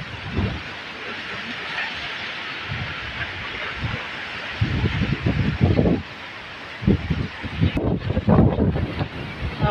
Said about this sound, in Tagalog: Grabe ang hangin diri sa bukid, wala pa nawala.